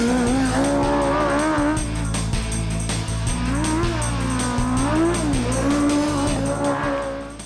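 A race car speeds around a dirt track, its engine droning loud and steady throughout with rising and falling pitch as it works through the turns, close and continuous.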